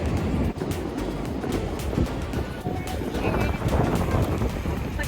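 Ocean surf washes loudly and continuously through rocky tide pools at low tide around Haystack Rock on Cannon Beach, Oregon, with steady wind buffeting the microphone.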